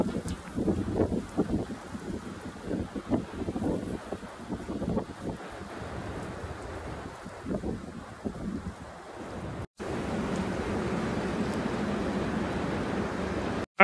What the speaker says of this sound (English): And the wind is really cold now.